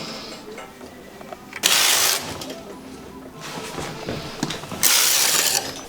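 Knitting machine carriage swept across the needle bed in two loud, rasping passes about three seconds apart, with quieter clicking between them.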